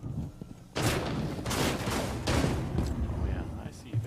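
Gunfire in the Rainbow Six Siege heist mode Grand Larceny breaks out suddenly as a dense, loud fusillade of rapid shots, continuing for several seconds in close bursts.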